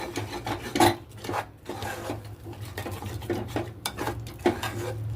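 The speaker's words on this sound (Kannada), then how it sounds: "ಇನ್ನೊಮ್ಮೆ ಚಲೋತ್ನಾಗೆ ಕೈ ಆಡ್ಸೋಣ" A vegetable palya with oil and rock salt is stirred in a pan, producing irregular close scraping and rubbing strokes with occasional utensil knocks over a low background hum.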